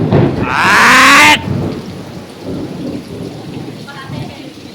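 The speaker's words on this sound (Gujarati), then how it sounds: "અમારા લાગે વીજળી પડી હો" A loud, sharp thunderclap from a nearby lightning strike in Ahmedabad cracks and roars for about a second, then fades into a low rumble over soft background rain.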